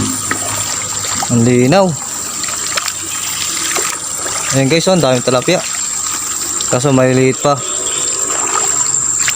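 Water pours steadily at a small waterfall in a clear pool stocked with tilapia, a constant rushing wash heard close by while someone talks over it.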